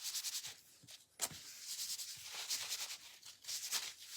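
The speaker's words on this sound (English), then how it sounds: "then just wipe it like this. You want to get that dust off." A cloth wipes sanding dust from a wooden gingerbread girl quilt block, giving steady close rubbing strokes in a repeating back-and-forth rhythm with no talk.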